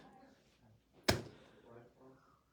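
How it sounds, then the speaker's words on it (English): A single sharp thud of an office door being shut, one loud brief impact amid quiet background talk in the room. "Can you close the door, please?"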